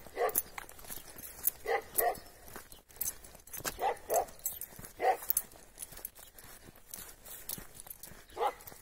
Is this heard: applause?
no